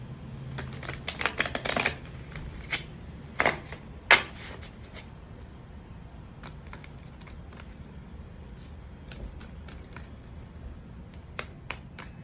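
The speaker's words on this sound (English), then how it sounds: "Let's give one more shuffle." A tarot card deck is shuffled by hand in close, papery bursts, with a dense flurry early on, then sparser, quieter card flicks and taps trailing off, with no voices.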